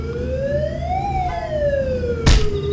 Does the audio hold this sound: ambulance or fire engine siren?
yes